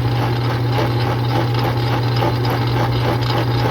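A 1940s metal lathe turning slowly in a workshop gives a steady motor hum, and over it a small handmade wooden knob rattles with rapid, even, repeated clicks that run throughout.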